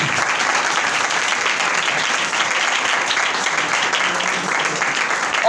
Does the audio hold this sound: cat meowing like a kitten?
no